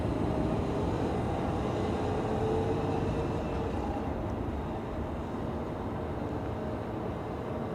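An Embraer 190 airliner at Schiphol Airport makes a continuous, fairly distant roar that swells slightly and then eases back a little, with a faint whine running through it.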